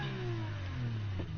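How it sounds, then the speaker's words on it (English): A LaFerrari engine in NFS Heat hums at a steady low pitch and then starts to rise in a rev, heard alone at a moderate level. "This car sounds good when it starts up."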